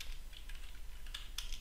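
Soft, quick keystrokes on a computer keyboard as a host name is typed, faint and close, with a few sharper clicks near the end.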